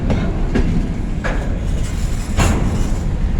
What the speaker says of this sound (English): train backing up here in CHIPLEY.